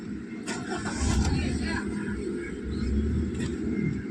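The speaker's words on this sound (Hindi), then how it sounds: "तो गाड़ी स्टार्ट हो गया" A Hyundai i20 petrol engine cranks and catches after a spark plug change, then settles into a close, steady idle with a slight swell of revs.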